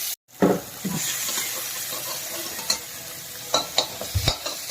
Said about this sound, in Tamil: நறுக்கின வெங்காயம் போட்டு வதக்கணும்